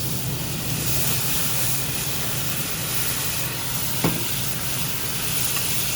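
Red wine hits a hot restaurant pan to deglaze it, producing a continuous loud hissing sizzle with a brief scrape partway through.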